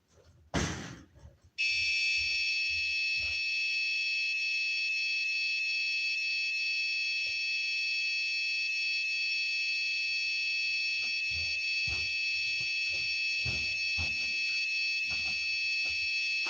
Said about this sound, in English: That's a low warning alarm that the system is going below